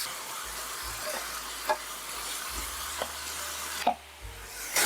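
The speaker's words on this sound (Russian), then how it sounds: "Обжариваю фарш на большом огне, чтобы он не пускал сок" Minced beef fries in a pan over high heat with a steady, close hiss of sizzling. Occasional clicks of stirring and a low background hum run beneath it.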